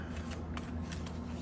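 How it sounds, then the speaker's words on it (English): Tarot decks, including Angels & Ancestors, Pride Tarot and Star Spinner Tarot, being shuffled by hand up close, a quiet, soft riffling with a few sharper card flicks standing out. "I shuffle the decks"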